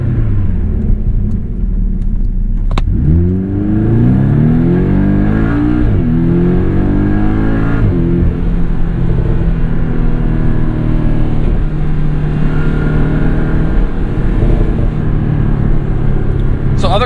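A 2017 Porsche 718 Boxster S with a PDK gearbox and MTM tuning pulls away from a standstill, its engine note climbing through quick gear changes and settling into a steady loud rumble heard from the cabin.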